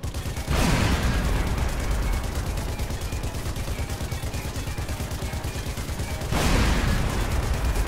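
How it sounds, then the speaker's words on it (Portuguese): Sustained machine-gun fire in Sniper Elite V2 Remastered, a loud, continuous rattling burst that stops briefly and then resumes, heard alone without talk. "Eu vou pegar essa metralhadora aqui, mano."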